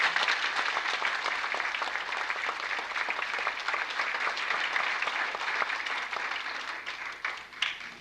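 An audience's round of applause for office and custodial staff, steady dense clapping from many hands filling a hall, sustained throughout with a brief louder burst near the end.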